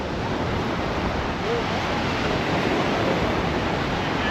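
Surf rolls in at a beach as a dense, steady roar of breaking waves, loud and close, with no clear gaps and some wind rush mixed in.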